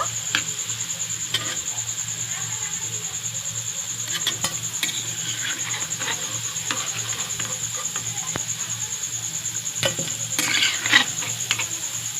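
Palm fruit fritters (tal furuli) frying in oil over low heat, a steady bubbling sizzle with a faint constant whine and occasional light clinks and stirring taps, no talk.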